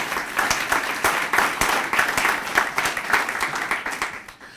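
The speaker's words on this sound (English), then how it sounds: "Can we give them all a round of applause, please?" Audience applause at a public forum on civil discourse in Lexington, a sustained wash of many hands clapping, steady and moderately loud, tapering slightly at the end.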